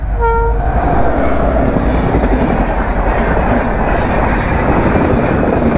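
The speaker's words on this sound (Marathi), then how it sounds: "ती बघा फायनली ट्रेन आली आहे." A train passes a railway level crossing on a highway route, loud and close: a brief horn blast at the start, then a continuous heavy rumble and rattle of wagons throughout.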